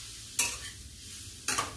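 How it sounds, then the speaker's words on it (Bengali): Grated carrots stirred in ghee in a pan: two quick scraping strokes over a soft, constant sizzle, close and clear. "ঘি দিয়ে আমি প্রথমে নেড়ে নিচ্ছি।"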